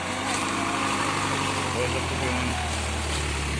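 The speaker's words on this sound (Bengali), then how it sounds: "ফায়ার সার্ভিসের গাড়ি আটকে গেছে" A fire service truck idles with a steady low engine rumble and broad mechanical noise, stuck on a narrow village road near a house fire in Kaliganj, Jhenaidah, continuous and fairly close throughout.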